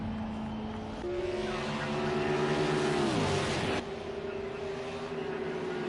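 Race car engines droning on a track during a Great American Race event, a loud sustained roar with a pitch sweep as a car passes close by, steady engine hum continuing throughout.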